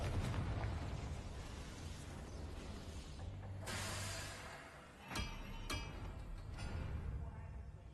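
Confringo fire spell exploding in Hogwarts Legacy: a broad, roaring blast with a low rumble, followed by two sharp cracks a few seconds later, loud and up close.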